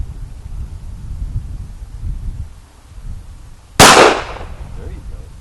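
A single sharp gunshot from a Jimenez Arms JA NINE pistol cracks loudly at an outdoor range after several seconds of wind rumble, followed by a short echoing decay.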